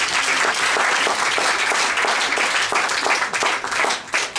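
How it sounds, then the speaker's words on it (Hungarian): An audience fills a Budapest hall with sustained applause, a dense, loud wash of clapping that holds steady throughout and thins slightly near the end. "Tapsolják meg!"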